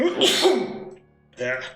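A single sharp, close sneeze bursts out, followed after a brief pause by a short spoken word.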